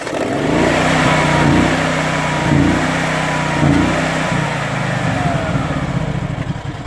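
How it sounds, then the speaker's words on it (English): A Honda EB10000 generator with auto throttle and about ten hours of use runs close and loud, its engine revving up and down in a few surges as the throttle is pulled while it is not yet fully warm. "First thing, we just pull the throttle a little bit"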